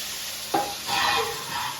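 Water spatters into a hot frying pan with a sudden sharp hiss that flares near the middle, then settles into a steady sizzle with some stirring; close and moderately loud, no voices.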